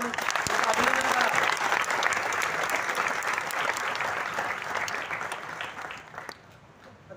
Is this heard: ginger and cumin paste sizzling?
no